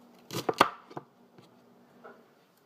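A kitchen knife dices trimmed celery on a cutting board in a short burst of several crisp, close chops, followed by a couple of lighter taps and then quiet.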